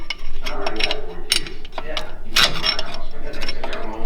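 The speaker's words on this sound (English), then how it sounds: "So we take this outer spindle nut off." Outer spindle nut being removed from a 1980 Scottsdale hub, with repeated metallic clicks, clinks and scraping of tools on metal parts, close and fairly loud in a steady irregular rhythm.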